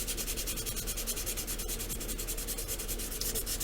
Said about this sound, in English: it's time to sand this, so I'm going to take some 320 and just give it a light knockdown